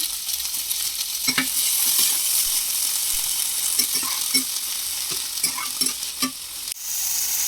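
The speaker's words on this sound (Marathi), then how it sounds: "आता याच कढईमध्ये थोडंसं एक चमचाभर तेल टाकूया आपण आणि हे जे मटार आहेत ना हे छान असे परतून घेऊया आपण" Frozen green peas sautéing in a spoonful of oil in a kadai, with continuous loud sizzling and repeated stirring scrapes and taps, a brief drop near the end.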